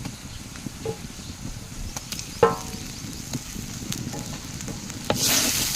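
Golden fried onions with spice-marinated catla fish masala sizzling in a pan, stirred with occasional sharp scrapes and clinks over a steady low crackle, ending in a louder hiss.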